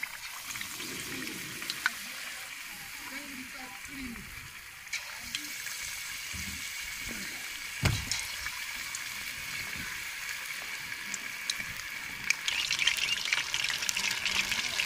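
Chicken pieces fry in hot ghee for a crispy, spicy fried chicken, giving a steady soft sizzling hiss with occasional pops and crackles throughout, fairly quiet and with no talking.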